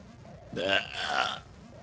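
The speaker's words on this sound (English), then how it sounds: "I belched." A loud, drawn-out belch lasting nearly a second, with a warbling, rising-and-falling tone, heard alone over faint background hiss.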